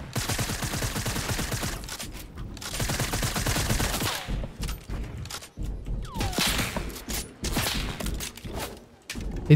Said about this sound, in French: Et d'où il me tire dessus lui?